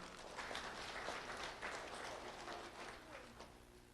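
Audience applause at a community event, a dense wash of clapping at moderate distance that holds steady, then gradually thins.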